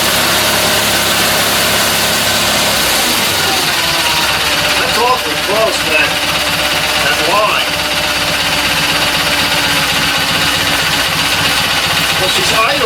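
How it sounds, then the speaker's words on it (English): A Kohler Magnum 20hp engine on a Simplicity Sunstar garden tractor idles steadily and close by, a low continuous running drone under occasional speech. "Well, she's idling okay. Gotta warm up."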